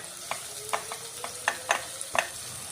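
Bell pepper, beans, carrot, radish and cauliflower sizzle softly in a pan while a spoon scrapes and stirs in a series of irregular clinks, close up and with no talking.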